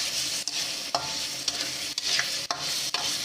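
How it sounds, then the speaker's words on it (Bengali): Prawn malai curry is stirred in a frying pan, with a steady sizzle broken by regular scraping strokes about every half second, close up and with no talking. "এবার নেড়ে চেড়ে নামিয়ে নেব।"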